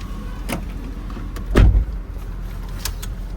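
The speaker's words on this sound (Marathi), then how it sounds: "गाडी." A car sits over a steady background hum. One dull thud, like a car door shutting, lands midway, with faint clicks around it and no speech.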